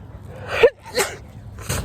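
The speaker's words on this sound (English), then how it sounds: "I have allergies. Sneezing is not a symptom." An allergy sneeze bursts out sharply and close, preceded by a quick inhale and followed by breathy gasping sounds, in a quiet room.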